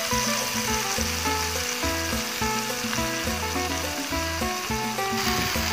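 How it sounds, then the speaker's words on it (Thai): Steady, loud sizzling and crackling of beef for steak frying in a hot pan, continuous throughout with no voices. "ครับเมื่อหม้อกระทะเดือดแล้วนะครับก็นำเนื้อลงไปเลยนะครับ ทอดนะครับ"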